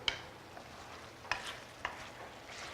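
Mushrooms cooking in butter in a pan over medium-high heat, with a steady soft sizzle and a few sharp scraping clicks as a utensil stirs them.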